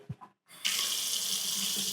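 Water gushes from a tap in an apartment of a three-unit building in Cicero, Illinois, with strong pressure; after a couple of faint knocks, a loud, steady rush starts and runs unbroken, with no talking.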